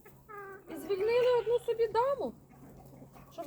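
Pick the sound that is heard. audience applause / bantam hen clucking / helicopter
bantam hen clucking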